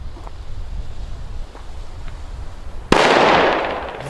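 Chinese firecrackers go off outdoors on New Year's Eve: a sudden very loud crackling blast after a stretch of windy rumbling, then dense sustained crackle.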